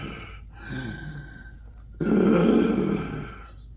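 A voice imitates heavy breathing. It has two rough, breathy exhalations with a grunting, groaning quality. The second one is louder and longer, and each fades out into quiet.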